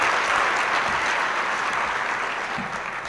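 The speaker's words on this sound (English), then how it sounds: "Let's give Majora Carter another round of applause." Audience at a political gala dinner award ceremony applauding Majora Carter, a steady, dense wash of many hands clapping throughout, fairly loud and sustained without a break.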